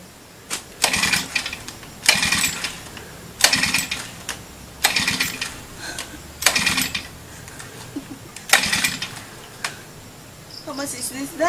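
A lawn mower engine is pull-started again and again without catching, each attempt a sharp burst of cranking and sputtering that repeats at roughly one-and-a-half-second intervals, close by, with voices in the background.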